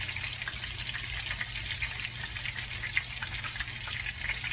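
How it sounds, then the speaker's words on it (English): Chicken frying in a pan of butter and oil, a steady close crackling sizzle with small pops scattered throughout and no voices. "that's a stick of butter and oil that I'm frying them in"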